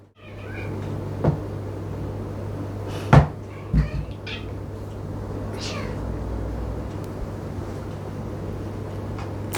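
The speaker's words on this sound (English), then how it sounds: "Little cat moment there." A cat meows indoors, a couple of short close cries with a sharp knock or cupboard-like thump among them, over a steady low hum in an otherwise quiet room.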